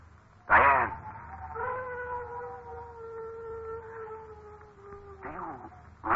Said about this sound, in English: Dogs howl when ghosts walk.